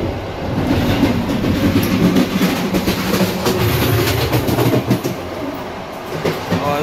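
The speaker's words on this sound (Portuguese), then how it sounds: "Ó, outras partes do trem ali." A train runs on its rails in Poland, heard from inside as a loud, steady rumble with a faint rhythmic clatter of the wheels throughout.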